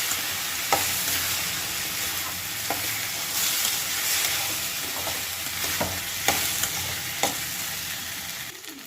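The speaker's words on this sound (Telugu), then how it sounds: "సగ్గుబియ్యం వేస్తున్నాను. వేసి వీటిని కూడా బాగా కలుపుకోవాలి." Sago pearls are stirred in a hot pan for upma, giving a steady soft frying hiss with intermittent spoon scrapes and taps against the pan.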